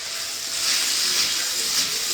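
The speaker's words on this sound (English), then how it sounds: "I'm just gonna let it steam for the rest of the way." Vegetables steam while cooking in a home kitchen, a steady bright hiss filling the short moment alone without talk.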